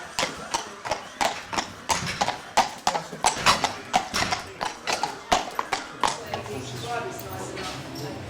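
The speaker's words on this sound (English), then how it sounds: "Fernandez is a really beautifully schooled Grand Prix horse." Hooves of a schooled Grand Prix dressage horse clip-clop in a steady, even rhythm on an arena surface, fairly close, with a few louder strikes and a soft snort or whinny; the footfalls stop near the end, leaving low background noise.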